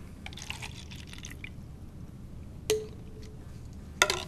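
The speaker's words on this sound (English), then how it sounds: "Pour it into the cup." Water from a graduated cylinder, a measured 60 milliliters, pouring into a cup on a lab table, heard as faint trickles and drips followed by two brief sharper splashes, with no talking.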